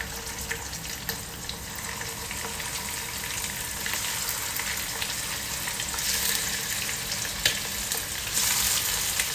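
Prawns frying in hot coconut oil for a prawn roast, a steady dense sizzle with crackling pops that holds throughout and grows slightly louder and brighter toward the end, with no voices.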